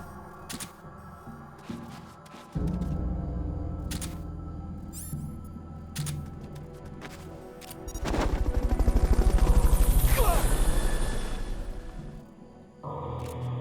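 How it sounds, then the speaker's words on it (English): A Fulton recovery helicopter's rotor chop in Metal Gear Solid Peace Walker swells in and fades out over a few seconds, loud and close, among scattered sharp clicks and mechanical noises. "Fulton recovery helicopter is complete."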